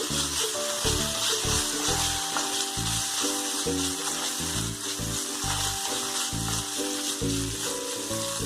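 A mutton soup mixture with tomato ketchup cooks in a pan on a low flame, giving a continuous even sizzle and bubbling throughout, with background music underneath.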